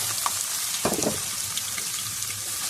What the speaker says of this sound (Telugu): ఇప్పుడు ఇందులోకి ఉల్లిపాయ పచ్చిమిరపకాయలను యాడ్ చేసుకోవాలి.